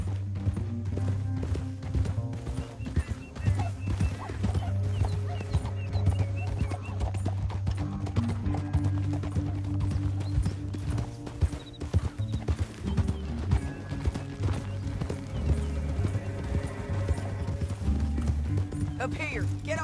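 Steady clip-clop of horse hooves at a trotting rhythm in Red Dead Redemption 2 video game, continuing throughout with a musical score and occasional voices over it.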